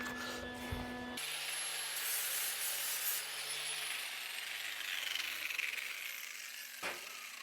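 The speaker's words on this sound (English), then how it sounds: "Let me take the grinder to it and make it a little more presentable." An angle grinder smooths a weld on a 1964 Chevy C10/20 truck during rust repair, a continuous close metallic whine and grinding rasp with a motor tone winding down partway through.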